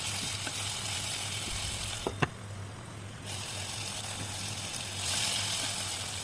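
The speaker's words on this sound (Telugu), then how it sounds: "సో ఆనియన్ టమాటో అనేది మంచిగా మనకి ఫ్రై అవ్వాలన్నమాట" Onions and tomatoes frying in a pan, a soft steady sizzle with a couple of faint stirring clicks, no talk.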